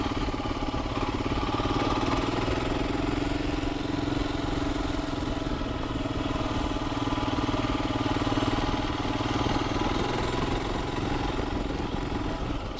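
A 2021 Royal Enfield Himalayan single-cylinder motorcycle engine drones steadily while riding, a rough continuous buzz mixed with wind rush, close and unchanging throughout.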